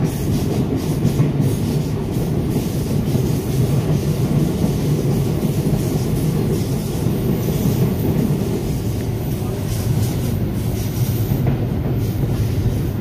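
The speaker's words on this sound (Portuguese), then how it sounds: "um trem graneleiro carregado" A heavy loaded bulk-grain freight train with locomotives rumbles past close by, a steady loud low roar with faint rhythmic wheel clatter throughout.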